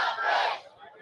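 An angry crowd at a fishing tournament shouts and jeers in a short, loud burst of massed voices that quickly fades.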